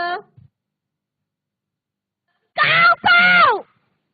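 After a long silence, a voice imitates a crow's caw with two loud, drawn-out calls in quick succession.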